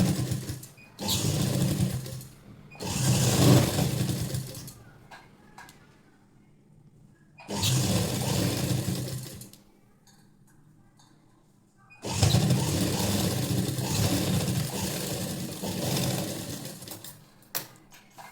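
A sewing machine stitches a blouse in three separate bursts of steady whirring, each several seconds long, separated by quiet pauses, heard close and without talk.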